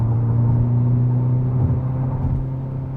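Interior drone of a 2022 Hyundai Elantra N driving over an overpass, a steady loud low engine and road rumble with a slight jolt midway and no clear separate impact.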